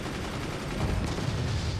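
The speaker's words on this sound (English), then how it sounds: "Deathwing is already firing their first nuke" A nuke launching in a competitive strategy video game: a continuous low, rumbling roar of blast and gunfire-like noise that swells slightly partway through, loud and dense throughout with no voices.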